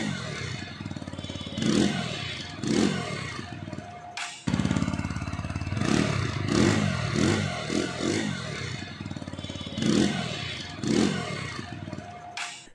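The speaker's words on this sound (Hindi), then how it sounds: "आपको बता दूँ इसके एग्जॉस्ट के बारे में, एग्जॉस्ट के बारे में बात नहीं करते हैं, आप एक बार इसकी आवाज़ सुन लीजिए।" A 2020 TVS Apache RTR 160 4V BS6 motorcycle's exhaust runs steadily and close by, with several revs rising and falling over the idle and a short break in the middle.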